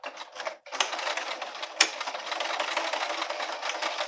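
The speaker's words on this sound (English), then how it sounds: "I'm going to go ahead and stitch the bias tape down from here to here." A sewing machine stitching bias tape onto fabric, a fast rattling run close by that stops briefly after the start, then resumes and carries on steadily with no talk.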